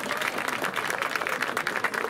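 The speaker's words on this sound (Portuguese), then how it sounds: "Podem-nos bater palmas." An audience at a national folk dance gala claps in a dense, even burst of applause, loud and sustained, with a faint crowd murmur underneath.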